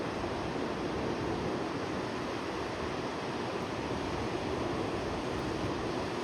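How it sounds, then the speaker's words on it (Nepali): Steady broadband roar of rushing water at Mohini waterfall in Kulekhani, a dense continuous wash with no pauses, loud and close throughout, with no voices over it. "मोहिनी झरना आइपुगेँ साथीहरू"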